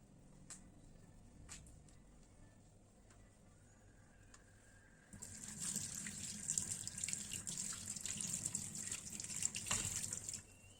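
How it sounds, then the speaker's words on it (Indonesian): Water runs from a tap for hand washing before a physical examination, faint and distant at first, then a steady close stream splashing continuously through the second half. "saya akan mempersiapkan alat cuci tangan terlebih dahulu ya Pak"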